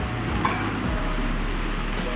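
Beef chunks for a mushroom stew sizzle steadily in a pressure cooker, a continuous loud frying hiss with a brief stirring clatter near the start.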